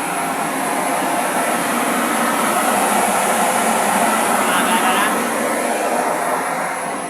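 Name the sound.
blower running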